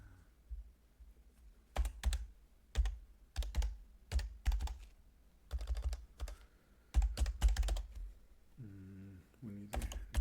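Python code is typed on a computer keyboard in quick, close clicking bursts separated by short pauses, and a voice speaks briefly near the end.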